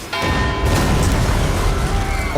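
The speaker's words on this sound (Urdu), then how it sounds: "وہاں ایک زوردار دھماکہ ہوتا ہے" A powerful explosion in a dubbed historical drama scene, a sudden loud boom that swells into a sustained heavy roar and rumble, dense and close, filling the whole moment without speech.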